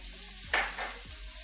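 Green chilies sautéing in a pan for chilli chicken, a faint soft sizzle with a brief stir-and-shuffle scrape in the middle, quiet and close, no voices.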